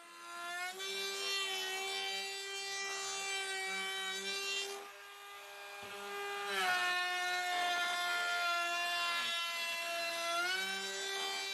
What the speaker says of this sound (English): The inside edge of the woofer and mid-range driver openings are then beveled with a 45-degree router bit